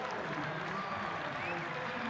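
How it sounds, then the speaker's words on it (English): A cricket crowd at a Vitality Blast T20 match between Essex Eagles and Surrey applauds a batsman's innings, a dense, even wash of distant clapping and crowd noise throughout. "the crowd giving him the appreciation that he deserves after that inning"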